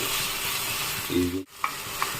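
Ginger garlic paste frying in a pan, a steady close sizzle with spoon-stirring scrapes and a couple of clinks near the end.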